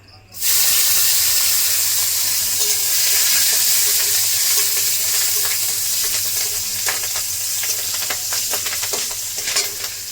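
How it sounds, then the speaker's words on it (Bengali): Garlic and green chilies hit hot oil left from frying brinjal for a Bengali doi begun, setting off a loud, steady sizzle with scattered crackles and pops that runs throughout, with no talking. "বেগুন ভাজার তেলে ফোড়ন দিয়ে দেবো,"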